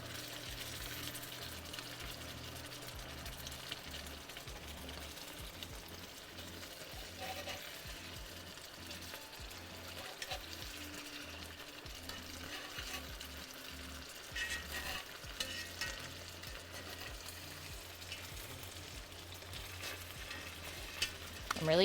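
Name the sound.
food sizzling while frying in pan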